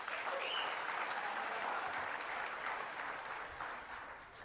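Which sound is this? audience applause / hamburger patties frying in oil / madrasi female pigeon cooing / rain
audience applause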